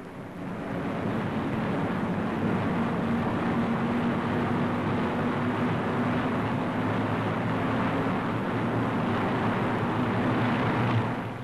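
Marauder bomber engines drone steadily throughout as the aircraft fly, one engine damaged and trailing smoke, a dense continuous roar with no voices.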